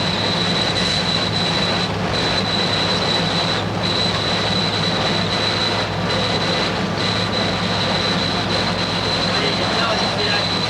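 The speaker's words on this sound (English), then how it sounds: "Oh, that's a freight train." A freight train rumbles past steadily for the whole stretch, a dense, loud rolling roar with a sustained high squeal riding over it.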